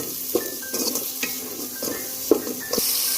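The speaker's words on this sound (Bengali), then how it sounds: "সামান্য পরিমাণে লবণ দিয়ে দিচ্ছি যেন পেঁয়াজটা তাড়াতাড়ি ভাজা ভাজা হয়ে যায়।" Half a cup of chopped onion and fifteen green chilies frying with a little salt in oil for mixed chicken khichuri, a steady sizzle broken by repeated scrapes and clinks of a spatula against the pan.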